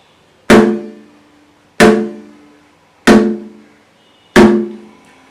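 Four loud, resonant mridangam strokes called Tham, both heads played together, evenly spaced about a second apart, each a sharp attack blending a deep boom with a ringing pitched tone.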